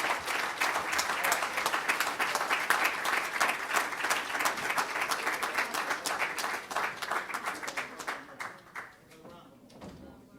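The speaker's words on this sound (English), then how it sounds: "Let's give them a thunderous, warm round of applause." Dense, sustained applause from a large audience welcoming new members into the Nation of Islam, steady clapping for about eight seconds before thinning out and fading, with some crowd sounds mixed in.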